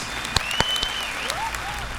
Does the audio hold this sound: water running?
no